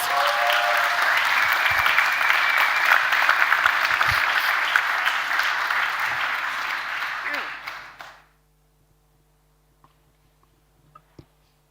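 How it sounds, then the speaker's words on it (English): Loud, sustained applause from a large crowd at an innovation event opening ceremony for about eight seconds, then it stops abruptly, leaving near silence with a few faint knocks. "huge applause"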